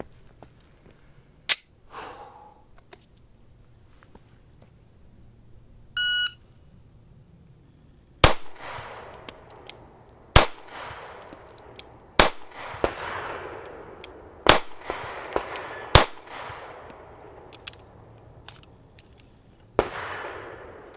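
Handgun shots fired at a target from 5 yards, comparing S&W subcompact 9mm pistols: a slow, deliberate string of loud, sharp cracks spaced a second or two apart, with a brief electronic beep near the start.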